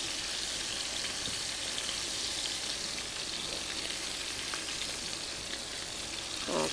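Food fries in a hot pan while preparing a chicken casserole, a steady broadband sizzle holding evenly throughout without speech, close and fairly loud.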